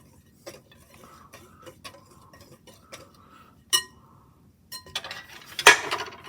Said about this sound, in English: And now you whisk the flour.